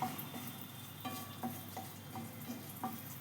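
Bay leaf and small dried red chillies fry in melted butter for an egg malai curry, a steady close sizzle with a spoon scraping and tapping the pan in a loose rhythm of about six strokes, no talking.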